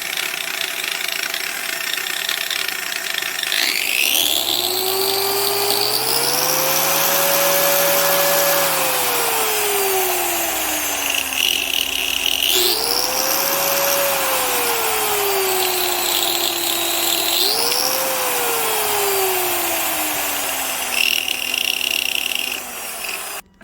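A Makita 13-amp variable-speed 4-1/2 inch angle grinder runs on its low setting, its close, loud whine sliding up and down in pitch several times as load comes on and off the spindle.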